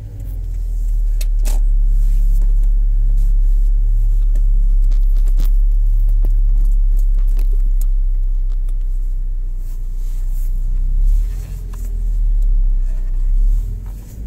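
Car reversing into a parking spot, a loud, close low engine rumble held steady for most of the stretch, dipping briefly near the end, with scattered small clicks and knocks and no talking.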